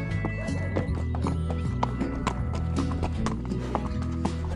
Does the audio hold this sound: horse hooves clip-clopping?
yes